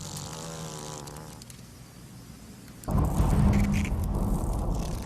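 A swarm of giant hornets buzzes steadily and densely, a continuous insect drone that grows louder and fuller partway through.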